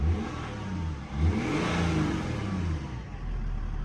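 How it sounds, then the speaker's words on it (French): A BMW inline-six diesel engine with about 340,000 km revs up and down with a deep, rising growl, heard close by, climbing in pitch then settling back to a rumble. "J'avais oublié qu'elle faisait un bruit comme ça."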